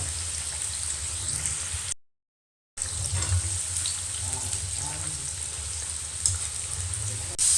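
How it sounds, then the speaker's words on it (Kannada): Papaya snack pieces deep frying in hot oil over a medium flame, a steady close sizzle and bubbling that runs throughout, broken by one brief gap of silence. "ಮೀಡಿಯಮ್ ಫ್ಲೇಮ್ನಾಗ ಇವನ್ನ ಫುಲ್ ಫ್ರೈ ಮಾಡ್ಕೊಳ್ಳೋಣ ಅಂತ"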